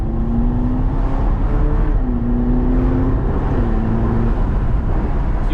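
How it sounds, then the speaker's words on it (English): A car with a DSG dual-clutch transmission runs at a steady loud engine drone, its pitch dropping twice in quick, smooth steps as it shifts gears. "DSG or DCT dual clutch transmission where it engages both gears at one time, has that seamless shift."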